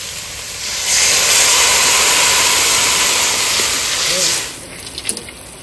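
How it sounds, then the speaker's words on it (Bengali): Water poured into a hot pan of fried spices for a hilsa fish curry sets off a loud, close hissing sizzle that holds for a few seconds, then dies away into small clinks. "মশলা কষানো হয়ে গেছে, জল দিয়ে দেবো"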